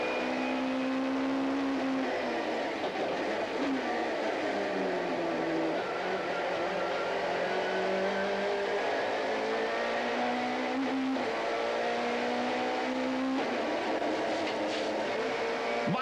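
A BMW touring race car, the Johnson Matthey Supertouring entry racing at Killarney in 1993, heard from the cockpit: a loud, continuous engine drone that rises and falls through revs and gear changes, with no talk.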